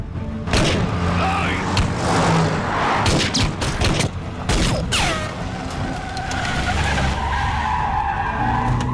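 Car tires skidding and squealing at speed in a Hindi-dubbed South Indian action movie chase, with loud sustained screeching, engine roar and sharp bangs layered over dramatic sound effects throughout.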